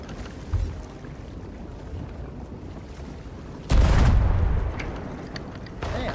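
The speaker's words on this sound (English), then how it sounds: "Fire the cannons!" Ship cannons fire in the video game Sea of Thieves: a faint early thump, then a loud booming blast that rumbles and slowly fades, followed by another sharp report at the end.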